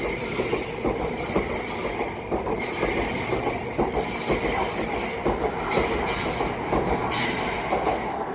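A train runs through Manors Station on the line toward Edinburgh, wheels squealing loudly against the rails, with a steady rumble throughout.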